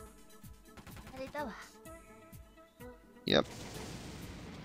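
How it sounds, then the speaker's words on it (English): Rapid gunfire in War of the Human Tanks, a sniper rifle loosing several shots in quick succession, sharp cracks punctuating game music, followed by a louder burst near the end while a voice speaks briefly. "aren't I using a sniper rifle? Why is it shooting multiple bullets?"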